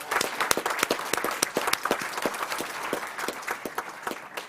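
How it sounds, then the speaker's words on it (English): Applause at a school board meeting for a student representative, a moderate round of clapping with distinct individual hand claps standing out over a softer crowd patter, fairly even throughout. "Let's give Emily a round of applause."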